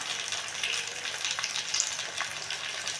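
Tomatoes sauté in a pan for a country chicken fry, giving a soft, continuous sizzle with light crackling and faint stirring, close and even throughout.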